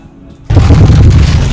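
Worn custom pro scooter gives a sudden loud bang followed by heavy rattling and clattering that stays close and continuous.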